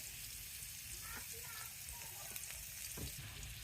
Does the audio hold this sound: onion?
yes